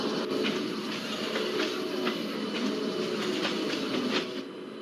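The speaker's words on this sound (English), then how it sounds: "We can see that Sataragachi VAP 7 locomotive which is slowly departing Boisar station." A WAP-7 electric locomotive pulls slowly out of Boisar station in the MSTS/Open Rails train simulator, giving a steady, loud rolling rumble with regular clickety-clack wheel beats throughout.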